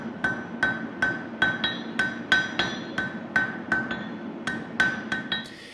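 Steady hammer blows ring out as a barbecue knife preform is forged, about a dozen sharp metallic strikes in an even rhythm, close and clear with no talking.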